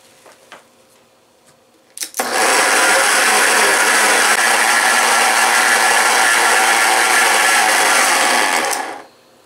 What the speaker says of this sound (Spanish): Ya nada más lo ponemos en la licuadora